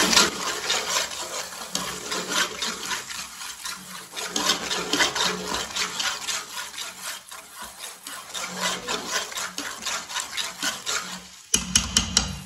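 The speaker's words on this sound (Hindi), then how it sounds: "पुदीना बारीक कटा हुआ, 2 सब्ज मिर्च बारीक कटी हुई। अच्छी तरह मिक्स कर लेते हैं।" Chopped mint leaves and finely cut green chillies being stirred and rubbed together in a bowl for chicken biryani, a steady close scraping and rustling that runs continuously with a brief pause near the end.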